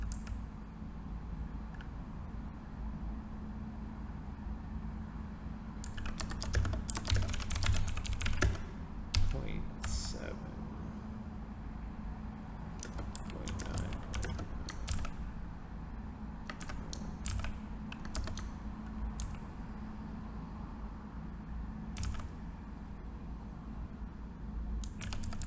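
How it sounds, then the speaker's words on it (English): Bursts of computer keyboard typing with irregular clicks, busiest in the first half, from someone nearby while slideshow software is being programmed, over a steady low hum. "The guy who keeps typing."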